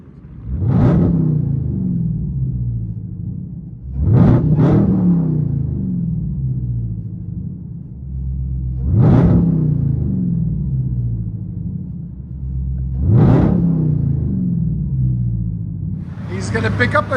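2018 Dodge Charger SRT Hellcat with true dual straight pipes rumbling loudly nearby, deep exhaust roar swelling in repeated revs every few seconds over a steady heavy idle.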